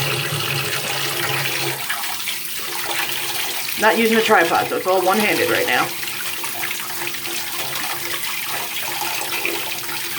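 Tap water runs steadily into a bath holding a LUSH Ruby Red Slippers bubble bar, a continuous splashing rush, with a person talking briefly over it partway through.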